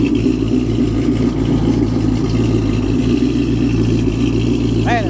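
Exhaust fitted with Karnage long-body mufflers on a Dodge drives past as a steady, loud engine drone that holds for the whole stretch with no pauses.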